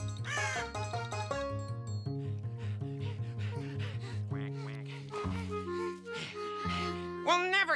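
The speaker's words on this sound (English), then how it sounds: "A crow." A crow caws several times over a busy musical background in a cartoon, the harsh calls standing out near and loud.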